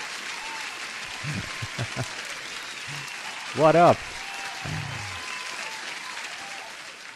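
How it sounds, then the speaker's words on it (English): Light applause rises under a steady hiss behind a couple of nearby voices talking briefly, fairly faint and thin rather than a full crowd. "Let me give you an applause."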